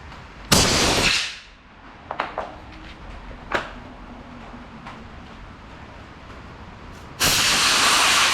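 Air bursts out of a tubeless bicycle tire valve when the floor pump is pulled off, a loud broadband hiss cut short after about a second, then faint clicks and handling before a second strong hiss of escaping air near the end.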